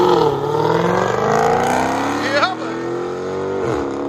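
A cammed LS3 V8 in a 1995 Nissan 240SX, fitted with long tube headers and a Borla Pro XS exhaust, revs up and down with a loud, close, throaty drone as someone talks over it.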